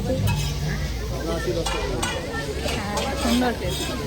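Tea being stirred with a ladle in a pot at a stall in a busy handicraft fair in Bolpur, with clattering scrapes and a soft sizzle under nearby chatter and voices.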